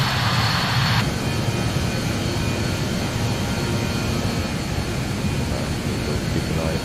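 An airplane engine drones in flight in Microsoft Flight Simulator 2020, a loud, steady cabin roar that holds for the whole stretch, with a higher hiss fading out after the first second.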